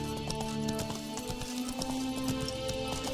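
Roach, a horse in The Witcher 3, trots along with a steady, close clip-clop of hooves over a faint background music bed and low ambience, with no talk.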